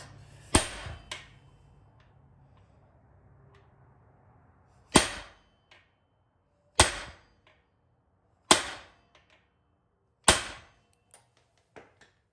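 Five sharp metallic bangs of a hammer striking a bent truck axle, spaced a second or two apart, ringing briefly over a quiet outdoor background.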